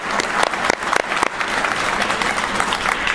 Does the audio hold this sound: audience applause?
yes